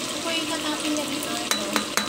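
Fish frying in a pan gives a steady, fairly quiet sizzle, with a few light scraping stirs of a spatula near the end.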